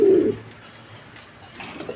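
A male Danish pigeon gives a close, low coo at the start, followed by quiet shuffling and a second softer cooing murmur near the end, in a short burst with no speech.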